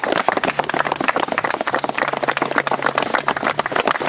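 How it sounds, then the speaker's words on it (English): A group of Civil Air Patrol members clap for one another after winter survival training, dense sustained clapping with sharp individual claps throughout, nobody talking. "Let's give each other a round of applause."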